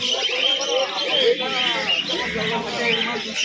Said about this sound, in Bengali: এই যে এটা হচ্ছে মাদি পায়রাটা